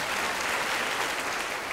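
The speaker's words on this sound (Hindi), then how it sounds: "भाइयो बजाओ ताली" An audience gathered for a village storytelling performance breaks into applause, a dense, even wash of clapping that stays uniform and fairly loud throughout the short burst.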